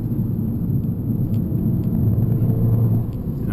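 Steady low engine rumble from a 2013 Fiat 500 Abarth driven on country roads, a continuous loud drone inside the cabin with no talking.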